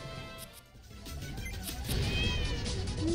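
Cartoon cat meow from the video game Nyan Cat: Lost In Space, a few short mewing cries over busy game sound effects and music, moderately loud.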